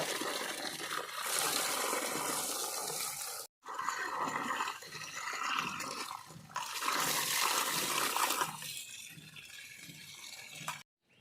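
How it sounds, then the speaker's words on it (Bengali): Chicken pieces, including neck pieces, are rinsed by hand in water for pakoras, with sloshing, splashing and trickling in long bursts broken by two brief pauses, no voices. "মাংসটা ভালোভাবে ধুয়ে নিচ্ছি"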